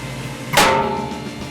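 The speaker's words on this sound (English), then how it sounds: "The purpose-built testing machine fires .223 caliber rounds on the bolt head" A purpose-built testing machine fires a single .223 caliber round on an M&P15 rifle bolt head, giving one sharp, loud report that rings briefly and fades quickly, with no voices.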